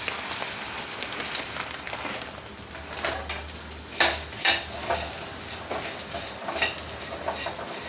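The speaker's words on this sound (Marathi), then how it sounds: "आता तुपावर डिंक परतून घ्यायचं" Edible gum (dink) frying in ghee in a pan over medium flame, a soft continuous crackle and sizzle with occasional louder stirring scrapes and bursts, no voices.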